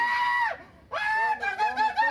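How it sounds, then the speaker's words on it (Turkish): A construction worker who fell into a well on a building site screams in panic during the rescue, with loud, high, wavering cries that break off briefly, then return strained and rising. "Ekiplerin çalışması sırasında paniğe kapılan işçi çığlık çığlığa bağırmaya başladı."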